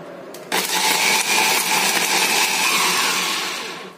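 A kitchen blender whirs loudly up close, grinding tofu batter for batagor with water and lime leaves into a smooth mix, its steady motor drone running for a few seconds before slowing at the end.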